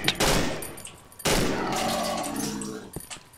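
Sniper rifle shots crack out in the Cry of Fear video game, two loud sharp blasts about a second apart, each ringing off with a long echoing tail, followed by quieter clatter.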